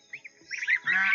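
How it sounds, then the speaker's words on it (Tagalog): Young goslings honking in a pen, a few short nasal calls at first, then a denser run of overlapping honks growing louder and close by. "Sisyo ng gansa pala"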